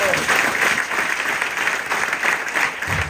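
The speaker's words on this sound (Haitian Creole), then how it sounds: "On applaudit les chers." Audience clapping at a church event, a dense, loud round of applause that keeps up steadily from start to end.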